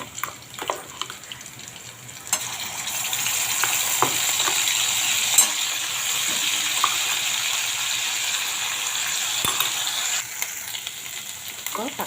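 Ginger and garlic sizzle in a hot pan as a steady, moderate frying hiss, with occasional clicks of stirring.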